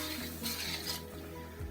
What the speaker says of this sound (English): I've got that up to a little simmer.